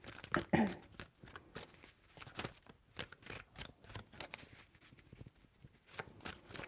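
Tarot cards handled and shuffled quietly up close, with a run of faint, irregular flicks and taps and a slightly louder riffle near the start.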